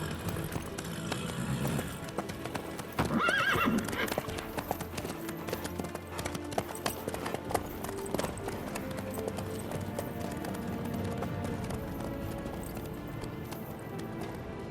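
Horse hooves clip-clop steadily at a gallop in The Witcher 3 video game, with a brief whinny near the start, all under a continuous orchestral music score.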